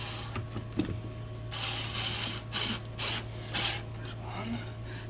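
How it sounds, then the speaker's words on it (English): A screw is driven into the speaker mount of a Roland Cube Street EX amplifier, with intermittent ratcheting bursts of screwdriver turns close by over a steady background hum, a voice speaking briefly. "Let me put a screw in it."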